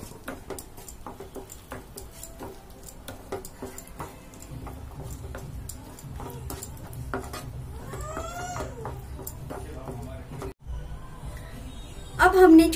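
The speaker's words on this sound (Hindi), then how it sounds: "मिक्स कर दूंगी।" Pasta being stirred and mixed in a pan with black pepper powder and salt, giving steady scraping and clinking of a utensil against metal, close and fairly loud, with speech heard over it.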